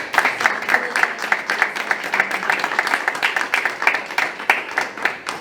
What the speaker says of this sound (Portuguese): E por isso eu convidava todos a darem uma salva de palmas a estes 3 testemunhos.